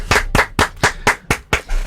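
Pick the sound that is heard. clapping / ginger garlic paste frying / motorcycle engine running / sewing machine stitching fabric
clapping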